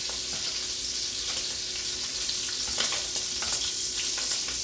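Shrimp for chicken and shrimp carbonara fry in a pan with a steady, loud sizzle, plus occasional stirring scrapes and crackles and no talk.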